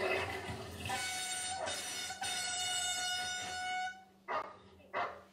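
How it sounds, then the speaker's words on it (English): A football air horn blares in long sustained blasts near dogs at play, the loud tonal honk holding for several seconds before two short final bursts. "somebody knew what he was doing to bring a football horn"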